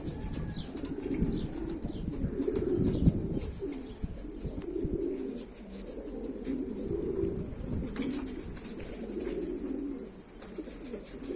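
Pigeons at a pigeon loft coo in low, rolling calls that overlap almost continuously, close and moderately loud, with a few brief wing flaps and light chirps mixed in and no talking.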